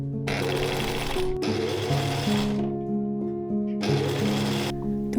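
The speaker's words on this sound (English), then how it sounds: "sewn together at the sewing machine" Sewing machine stitching white tulle with a gathering stitch, running in three loud bursts of rapid mechanical whirring with brief pauses between them, close and alone.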